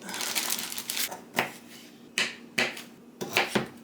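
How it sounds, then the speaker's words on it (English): Carrots being chopped on a board with a knife, a series of crisp, irregular crunchy cuts, close and fairly loud, with short pauses between bursts. "I'm gonna just eyeball like half a cup of carrots, and I'm gonna cut them up a little bit."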